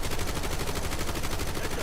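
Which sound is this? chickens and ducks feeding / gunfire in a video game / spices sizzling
gunfire in a video game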